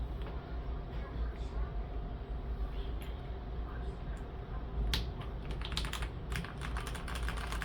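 Steady typing on an NZXT Function MiniTKL mechanical keyboard with tape layered on the circuit board, soft muffled key clacks over a constant background hum, growing a little sharper toward the end.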